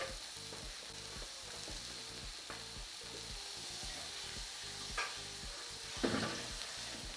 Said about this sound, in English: I'm going to sear it on all sides